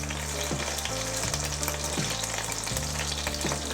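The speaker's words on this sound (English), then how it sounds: "we're sealing the meat" Spice-marinated chicken searing in hot oil for a restaurant-style garlic chilli curry, a loud, dense, continuous sizzle with low rhythmic thumps and scrapes of stirring.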